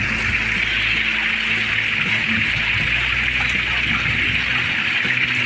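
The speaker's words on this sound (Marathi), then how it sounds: "पाऊस आता पाऊस किती जोरात पडतोय" A dense, constant roar of heavy monsoon rain in a Konkan village fills the clip, loud and unbroken, water streaming down close by.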